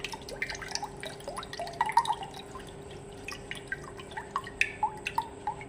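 Strained tamarind water trickles and drips into a new clay pot as a series of small, close, irregular liquid plinks and splashes, quiet and with no other sound over them.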